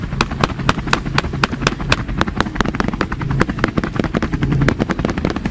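A helicopter flies over Arizona farmland during a wild hog hunt, its rotor thumping in a loud, fast, steady rhythm of sharp beats over a continuous low engine rumble.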